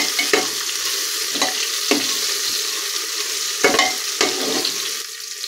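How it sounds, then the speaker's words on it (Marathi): Chopped tomatoes stir-fried in a pan until soft while making paneer biryani: a steady close sizzle broken by several distinct scraping stirs of a spatula, with no voices. "आता टोमॅटो आहे तो थोडासा मऊ होईपर्यंत परतून घ्यायचा आहे."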